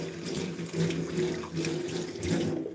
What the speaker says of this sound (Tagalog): hugasan ko muna yung aking kamay